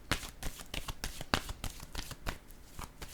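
Tarot cards being shuffled by hand, a close, quiet run of quick riffling flutters and soft taps repeating in an uneven rhythm.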